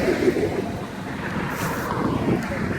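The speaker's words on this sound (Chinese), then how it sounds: "好大风啊！" Strong wind buffets the microphone outdoors, a constant low rumbling roar that stays loud and steady for the whole stretch with no talk.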